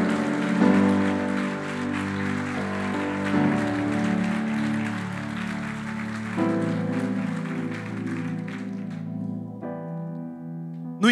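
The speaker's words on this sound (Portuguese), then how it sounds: "Você pode aplaudir a Jesus?" A church congregation applauds beneath sustained keyboard chords, the clapping a dense wash under the music that thins and drops away near the end.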